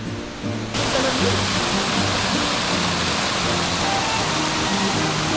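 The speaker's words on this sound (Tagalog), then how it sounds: "Ayan ang falls." A waterfall at a swimming resort in Pangasinan pours with a loud, dense, steady roar that begins abruptly after a quieter moment and continues unbroken, close to the listener.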